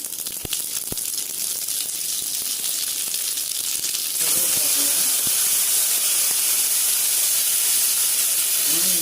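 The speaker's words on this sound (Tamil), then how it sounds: "எண்ணெய் காஞ்சிடுச்சு கடுகு போடுறோம்" Mustard seeds dropped into hot oil for tempering adai dosa chutney, giving a steady loud sizzling hiss with scattered sharp pops and crackles that grows denser and louder partway through.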